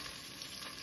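Chopped vegetables frying in a pan, a quiet steady sizzle with faint crackling and no voices.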